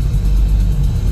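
A car engine and road noise while driving along a clean, smooth highway: a steady, close low rumble that holds without a break, with no talking.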